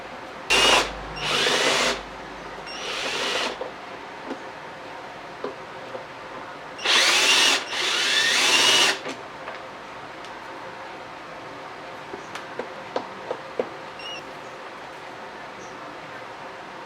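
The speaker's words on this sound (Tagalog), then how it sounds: "tatanggalin natin yung tornilyo dito" A power drill removes screws from a vacuum cleaner, whirring in short bursts of one to two seconds, then small clicks and taps of handling the parts in a quiet room.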